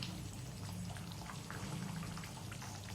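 Sole fish curry with potatoes, made without onion and with little oil, simmers uncovered in a pot, giving a soft continuous bubbling and popping hiss close by.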